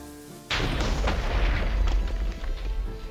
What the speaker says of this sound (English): grab your flint and steel and light them, which fires the cannons